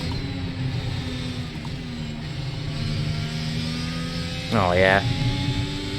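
A Formula 1 car engine in the iRacing sim drones with a steady whine, then rises in a sharp rev near the end; someone briefly speaks over it.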